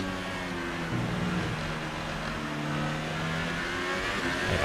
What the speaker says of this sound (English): you really hear the engine just choking on braking